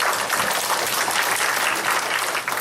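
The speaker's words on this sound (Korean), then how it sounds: "박수 한번." Steady studio audience applause from a Korean TV education-reform panel talk show, dense and even clapping throughout, with no voices over it.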